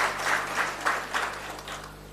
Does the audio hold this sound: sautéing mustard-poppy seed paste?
no